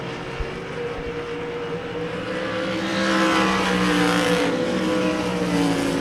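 Sprint cars roar around a speedway dirt track during a heat race, a steady loud engine drone that swells as the pack passes nearer midway through, with no voices over it.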